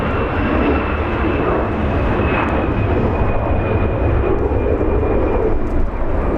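A Delta Boeing 737-800 departs Los Angeles International bound for Dallas Fort Worth, its jet engines a loud, steady, broadband roar with a thin whine sustained throughout, close and continuous.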